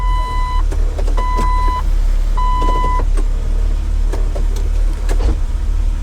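An idling Jeep Wrangler's 4-liter inline six-cylinder engine rumbles steadily up close while a series of electronic warning chimes beep at intervals over it.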